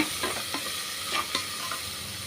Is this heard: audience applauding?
no